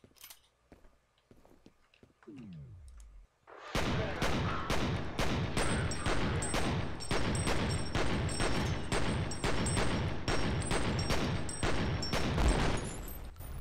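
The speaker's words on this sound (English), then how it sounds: "Okay, it was a grenade." Rapid bursts of gunfire and explosive blasts in the first-person shooter F.E.A.R., starting with scattered quieter sounds, then a sharp loud onset and a relentless rhythmic barrage of shots over several seconds.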